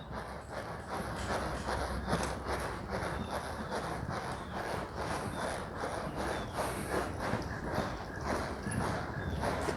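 A horse lopes a full circle during riding training, its hooves beating a steady, rhythmic three-beat clip-clop on soft ground at moderate distance, continuous throughout with no talking.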